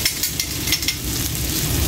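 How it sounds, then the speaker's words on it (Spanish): Vegetables and garlic stir-fry in oil over a wood fire with a steady, close, dense sizzle, punctuated by faint scraping stir strokes. "vamos a sofreír lo que es la verdurita"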